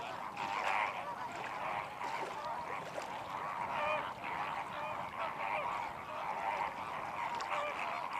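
A flock of flamingos calls at Point Calimere, Kodiyakarai, while feeding in shallow brine and mud. Their honking, goose-like chatter forms a dense, continuous chorus that stays steady and fairly loud throughout.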